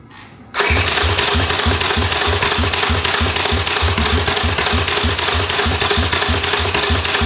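A Honda CX500 cafe racer motorcycle engine cranks and catches after a brief quiet moment, then runs with a loud, steady, rapid rhythmic chugging close by.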